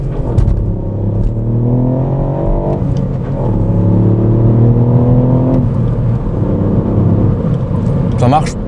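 A three-cylinder car pulls away from a traffic light, its engine note climbing in pitch through several stepped surges as it accelerates, close and fairly loud.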